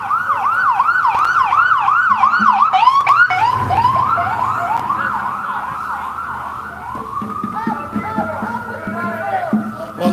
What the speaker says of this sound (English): Watch this ambulance.